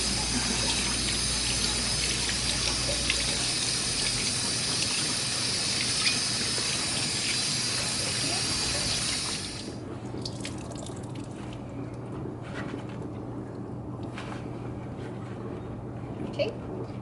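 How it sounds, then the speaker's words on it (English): Cold tap water runs steadily while dyed fabric is rinsed under it, a broad splashing wash for about nine seconds before it drops to quieter dripping and handling sounds. "gently rinse it under cold water"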